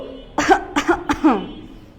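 A run of four short, harsh coughs in quick succession, close and fairly loud, fading out into quiet afterward.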